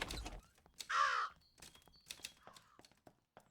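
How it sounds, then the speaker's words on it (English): Crows caw in a video game, one harsh call standing out near the middle among scattered faint clicks and knocks, all quiet and somewhat distant. "Where are all these goddamn crows"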